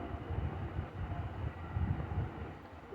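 A moving train gives a low, steady rumble with faint rhythmic swells, heard from inside and fairly quiet, with no speech.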